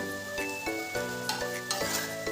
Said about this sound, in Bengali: আজকে একটু তেলে ফ্রাই করে দেবো, একটু রুটিটা ভাজা করে দেবো